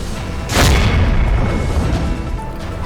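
A single firecracker bursts with a loud, deep boom at a celebration by party workers, followed by a short rumbling tail against steady outdoor background noise.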